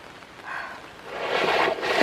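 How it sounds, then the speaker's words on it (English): Rain falling outdoors on an umbrella, a soft steady hiss that swells louder over a couple of seconds, close and without talk. "It's raining."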